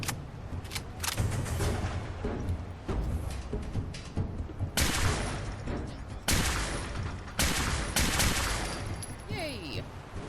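Rapid bursts of gunfire in Fallout 4's Far Harbor as a fog crawler is shot, with repeated loud volleys and impacts clustering over several seconds, interspersed with brief pauses.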